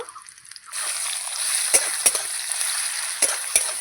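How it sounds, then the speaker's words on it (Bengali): Sliced onions hit hot oil for a spicy tengra fish curry, setting off a steady, close sizzle that holds throughout, punctuated by a few sharp crackles and spatters as they're stirred. "নাড়িয়েই আমি পেঁয়াজটা দিয়ে দেব"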